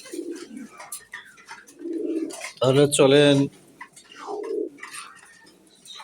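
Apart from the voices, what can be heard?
pigeons cooing at a pigeon farm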